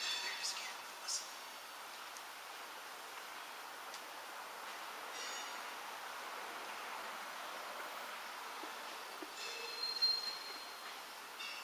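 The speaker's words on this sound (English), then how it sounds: "that's the railroad tracks" Train running on railroad tracks near Sloss Furnaces, a faint, distant rumble with light wheel noise and a couple of small squeaks across a quiet outdoor background.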